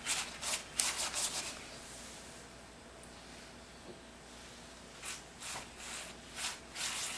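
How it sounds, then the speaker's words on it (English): A pastry brush rubs oil across a layered paratha with soft, close brushing strokes, a few quick swishes at the start and again at the end, and a quieter stretch in between. "I'm going to take my brush, dip it in the oil, and just rub it all around."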